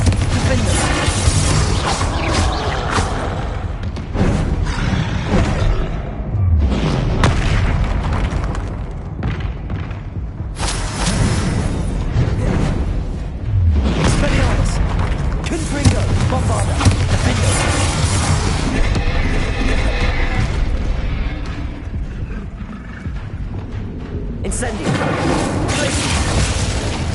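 Bombarda and Confringo explosion spells going off in the Hogwarts Legacy video game, heard as repeated heavy booms and bursts through a dense, loud battle mix, with a voice speaking over them.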